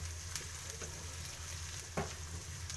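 Garlic and chopped onions sauté for mutton chukka in a steady low sizzle, quiet and continuous, with a few faint utensil taps and no talk.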